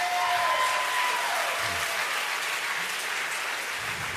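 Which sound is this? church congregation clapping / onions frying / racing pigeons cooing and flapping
church congregation clapping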